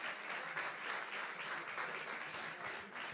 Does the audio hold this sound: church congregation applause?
yes